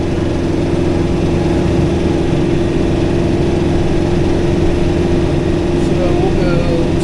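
A tractor engine drones steadily while mowing with a brush hog on wet ground near a pond, a loud constant low hum with no breaks throughout.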